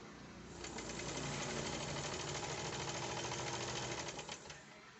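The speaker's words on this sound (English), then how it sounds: "play around the size of your zigzag stitch on your machine" A home sewing machine runs steadily through a zigzag stitch for a buttonhole, its motor whirring with a fast mechanical chatter that holds for about four seconds, close and alone, before slowing to a stop.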